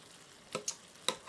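Spatula scraping through ground beef in a sizzling pan for spaghetti sauce: a steady quiet fry with two or three sharp close scrapes of the utensil against the pan bottom.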